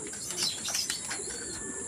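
Pigeons coo softly close by over a steady background hum, with a few chirps and faint wing flutters.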